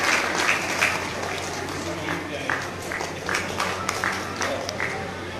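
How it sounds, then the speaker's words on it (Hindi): An audience at a cultural and literary program in Islampur claps to welcome a guest: dense, sustained applause that fills the room evenly, with scattered louder claps throughout. "जोरदार तालीम से इस्तकबाल कीजिए"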